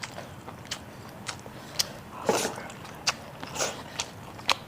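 Someone eats braised pork belly with chili peppers up close, with repeated sharp bites and crunchy, wet chewing over a steady background hiss and a few faint clicks.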